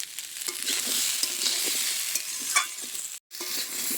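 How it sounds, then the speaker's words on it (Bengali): Potatoes and cauliflower fry in oil in a wok with a steady close sizzle, broken by occasional stirring scrapes and a brief cut-out near the end. "আলু আর কপিটা ভেজে নিয়েছি"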